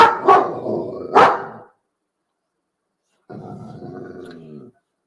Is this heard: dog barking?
yes